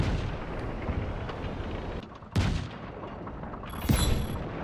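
Heavy cannon fire in Just Cause 3, two deep booming blasts about two seconds apart over a dense rumbling background of in-game battle noise.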